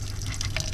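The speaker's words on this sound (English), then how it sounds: "now we're gonna run the water through and get that antifreeze out of the lines" Water runs steadily from a van faucet with the water pump on, a soft continuous splashing stream flushing antifreeze from the lines, with a low pump hum beneath.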